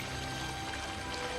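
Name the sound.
water pouring in Star Trek episode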